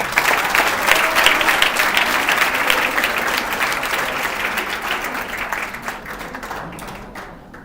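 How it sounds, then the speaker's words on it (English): A crowd applauds steadily, dense clapping filling the space for several seconds before tapering off toward the end. "let us all give both the girls a big round of applause."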